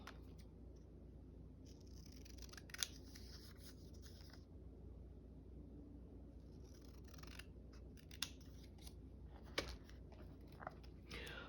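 Scissors snipping through paper for a junk journal page, quiet close snips scattered over about eleven seconds, with a few sharper cuts standing out, no talking.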